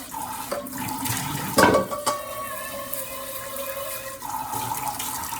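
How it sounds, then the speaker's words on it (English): Tap water running into a sink while a large non-stick saucepan is rinsed, with a clunk and splash partway through, steady and close. "Let me also wash the good pot."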